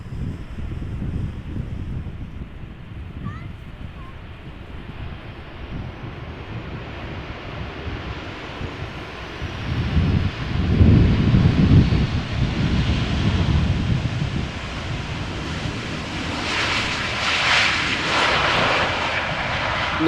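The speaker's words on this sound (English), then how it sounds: "Another 737 arriving from Paris Charles de Gaulle." A Boeing 737 arriving from Paris at Amsterdam Schiphol roars past, its engine noise swelling loud through the middle and lingering with a hissing tail, mixed with gusty wind on the microphone.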